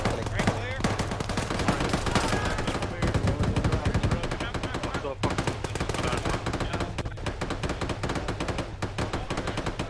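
Gunfire in the game Arma 3, a sustained barrage of rapid automatic bursts with loud, close cracks packed tightly together, continuing without a break and partly overlapping faint voices.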